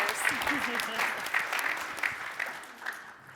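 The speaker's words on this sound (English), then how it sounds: "Can we give a round of applause for our innovators?" Audience applause at a SXSW EDU 2022 panel on education entrepreneurs, greeting the innovators: a steady, dense wash of clapping from a seated crowd that holds for several seconds without letting up.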